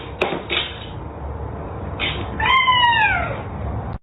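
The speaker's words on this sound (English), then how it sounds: "the cats are doing something stupid again" A cat lets out a long, wavering meow that bends downward, preceded by a few short clatters and knocks nearby, with no talking.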